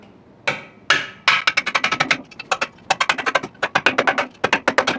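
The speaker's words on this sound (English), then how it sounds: "Tap these bolts on through." A hammer strikes a steel punch to drive the control arm bolts out of a 2011 Toyota Highlander, sharp metallic blows coming close and loud, a few spaced hits and then a fast rhythmic run of repeated taps.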